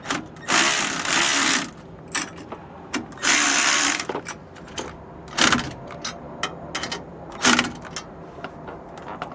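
Ratchet wrench snugging down the bolts on a Roadmaster Exact Center steering stabilizer on a 2004 Ford, in bursts of rapid clicking separated by short pauses and lighter metallic taps.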